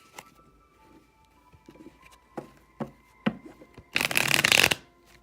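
Oracle cards are shuffled in a few quick riffles, then a louder, longer burst of rustling near the end, with no one speaking.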